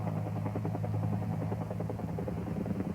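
Continuous rhythmic blade thumping and engine hum from an Air Force Huey helicopter on a remote resupply mission, steady and moderately loud throughout with no speech.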